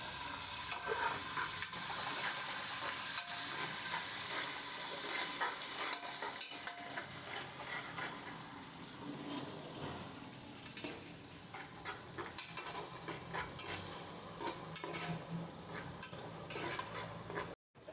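Onion and curry leaves crackle in hot tempering oil for sambar, a long, continuous sizzle with scattered pops and occasional stirring scrapes, fairly quiet and steady, with no voices.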